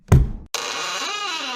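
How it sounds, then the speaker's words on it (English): An old door is shoved hard, ending in a single loud knock-like thud that is followed by a creaking, ringing sustained sound as it slowly swings open in a dark crawlspace. "On the fourth and most powerful push, the latch fell to the ground, and the door slowly opened."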